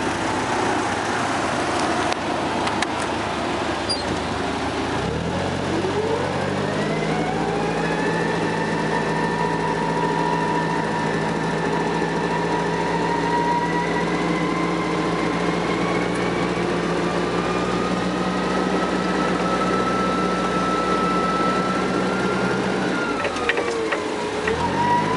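A 2006 Yale GLC50 forklift engine runs steadily for the whole stretch, loud and close, its pitch climbing as it revs up and then easing back down near the end, with no talking.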